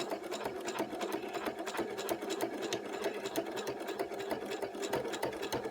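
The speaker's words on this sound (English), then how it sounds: "I am doing about a 1/16 inch stitch away from the folded edge of this black strip. And I'm just going to start sewing." A sewing machine stitches a folded black fabric strip at a 2.5 stitch length, running in a fast, steady mechanical whir and patter, fairly quiet and alone.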